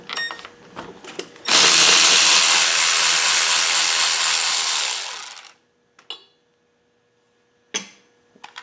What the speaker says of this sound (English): I'm using a 12mm deep socket.